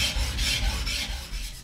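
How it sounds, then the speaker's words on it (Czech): Rhythmic, rasping strokes of a katana blade ground on a 220-grit binsui whetstone while shaping the back, a soft, close scraping repeated in quick even passes. "Následuje práce na druhém kameni binsui. Zrnitost 220, tvarování hřbetu."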